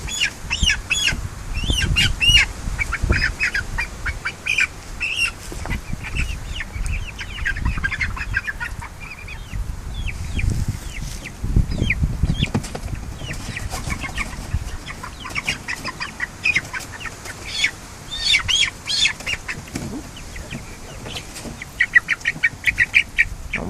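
Barred Rock and Buff Orpington hens squawk and cluck nearby, with wing flapping and scuffling in bursts throughout, loud, agitated and close with no talking.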